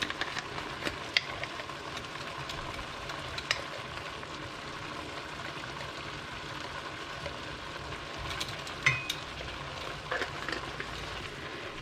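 Ground cumin being stirred into sizzling deer chili in a pan, a steady close frying hiss with occasional scraping clicks of the spoon, no voices.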